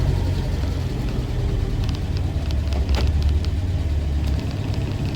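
A Land Rover Series 2a 88 inch petrol soft top running at idle, a steady loud low engine rumble with faint ticking on top and no voices.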